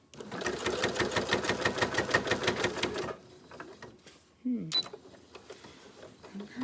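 Sewing machine running a fast, steady run of stitches for about three seconds, then stopping, followed by quieter handling clicks and a brief thump.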